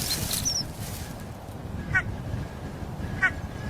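A red-breasted goose calls from a nest site near peregrine falcons, giving two short, clear honks a little over a second apart, with a higher squeak just before them against a soft outdoor hush.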